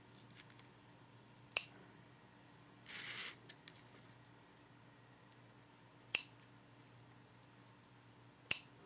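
Scissors trimming paper craft pieces: a few sharp, isolated snips spaced seconds apart, plus a brief papery rustle, close and fairly quiet against a faint room hum.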